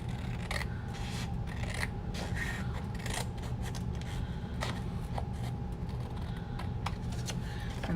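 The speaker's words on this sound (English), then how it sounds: "We're gonna cut straight down." Scissors cut straight down through card stock for a 3x3 notecard set, giving a steady series of crisp snipping and rustling strokes up close, with no talking.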